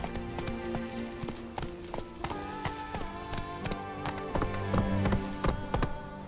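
Roach, a horse in The Witcher III, clip-clops along at a steady gallop, with rhythmic hoofbeats up close over a layered game music bed.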